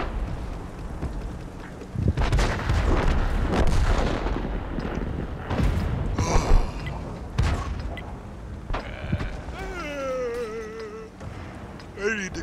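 Artillery barrage in the tank game World of Tanks Frontline: a run of loud booming blasts and gunfire with wind-like rumble, then a softer stretch with warbling tones near the end.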